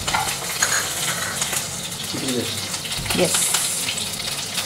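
Curry leaves and spices splutter and crackle in hot oil for a tomato gojju, cooked in Chikmagalur, with a steady close sizzle and scattered pops while a voice speaks briefly.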